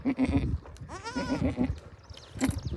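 A goat bleats loudly and close by in a rural Gujarati village during rain, one wavering bleat amid brief talk and background noise, followed by a sharp short cry near the end.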